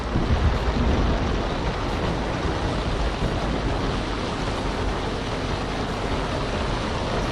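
A roaring sea-power storm attack in an animated ocean-kingdom battle: a dense, continuous surge of crashing waves and howling wind, loud and steady from start to finish with no voices.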